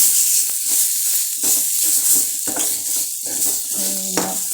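Cauliflower in masala heating in oil, a steady hiss and sizzle with faint stirring scrapes and a brief pan knock near the end, close and continuous without talk.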